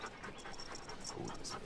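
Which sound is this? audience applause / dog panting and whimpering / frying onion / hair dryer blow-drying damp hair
dog panting and whimpering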